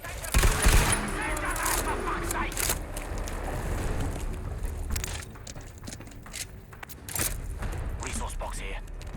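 Rapid bursts of gunfire in a video game set in mines, loud and close at first, then continuing as scattered shots and rumbling booms.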